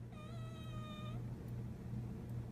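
A cat gives a single drawn-out whining meow up close, thin and wavering, fading after about a second into a low steady rumble.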